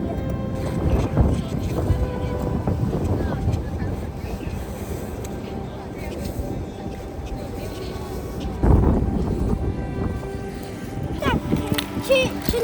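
Outdoor wind gusts against the microphone in Los Angeles after the wildfires, a steady broadband rumble with a louder burst near the end, while people talk over it.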